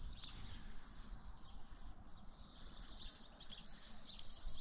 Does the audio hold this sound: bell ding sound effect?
no